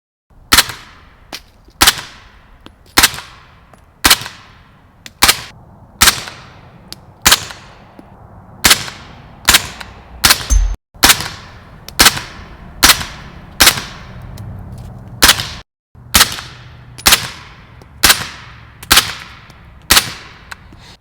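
A Bam Machine BM15 PCC rifle firing at an outdoor range, a long series of sharp, loud cracks at a steady pace of roughly one per second, each followed by a brief ringing decay.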